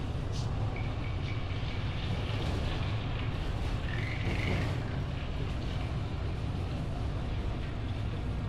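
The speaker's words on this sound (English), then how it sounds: "This train is actually cutting through the mountains" Polar Express ride train at Ocean Park Hong Kong rolling through a mountain tunnel, a continuous low rumble and hum with steady mechanical drone, no voices.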